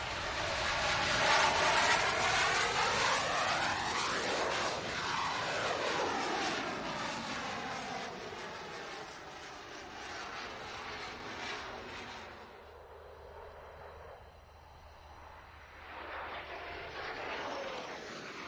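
A Royal Netherlands Air Force F-16 fighter jet flying at a 2001 British airshow roars past, loud and swelling as it nears, then sweeping away with a falling Doppler whine before the engine noise fades and returns.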